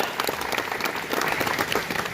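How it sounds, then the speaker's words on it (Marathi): Audience at a municipal council gathering applauds loudly, dense continuous clapping from many hands with faint crowd murmur underneath. "त्या दोघांच्यासाठी पण जोरदार टाळ्या वाजवाव्या"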